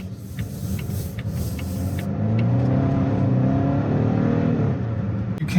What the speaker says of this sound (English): You can kind of feel the front wheel drive when you're accelerating.